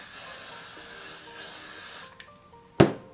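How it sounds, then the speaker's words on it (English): A continuous aerosol hair spray hisses for about two seconds, then stops, followed by a short clatter as something is set down nearby. "I'm just gonna brush it and spray it"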